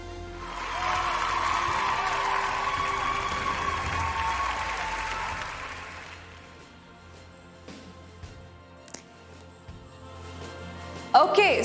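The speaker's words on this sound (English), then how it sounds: "Ladies and gentlemen, keep the applause coming." Audience applause at an awards ceremony, a loud sustained clapping from a large crowd that holds for about six seconds, then fades to a thinner scattering of claps and room noise.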